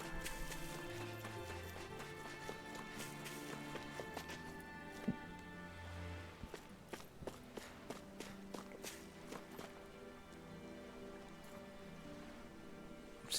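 Horse hooves galloping in the video game Tales of Arise, a quiet, even run of clip-clop beats under game music.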